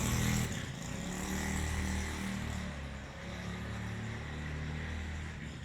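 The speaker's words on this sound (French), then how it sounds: "Je vais juste laisser la moto finir, quitter, parce que c'est bruyant." A motorcycle passes and moves off, its engine droning with low harmonic tones that shift in pitch and then fade slowly into the distance.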